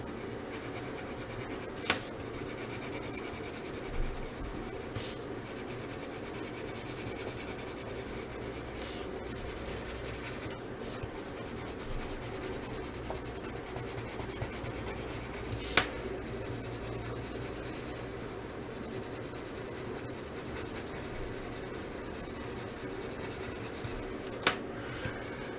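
Soft, continuous scratchy rubbing of a dark brown colored pencil lightly shading a bald eagle drawing, steady and close, with a few faint clicks and taps scattered throughout and no voices.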